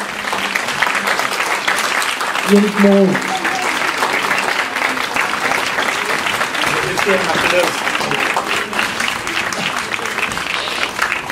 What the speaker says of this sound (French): sous les applaudissements